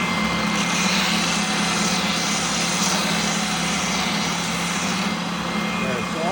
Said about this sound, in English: So quickly, got a little belt sander here.